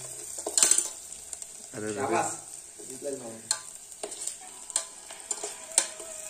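A spoon stirs poha with onion and chilli powder as it fries in a kettle, with intermittent scraping strokes and soft sizzling, near and fairly quiet, punctuated by sharp metallic clinks.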